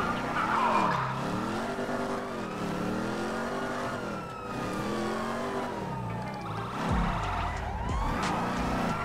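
A 2016 Dodge Charger Hellcat in GTA 5 revs and slides with repeated tyre screeches, its wailing engine rising and falling while police sirens sweep nearby, ending in a low thump.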